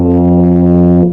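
A tuba sounds one sustained low note played with a tight 'ee' mouth shape, giving a pinched, buzzy tone that holds steady for about a second before cutting off; close and loud, no talking.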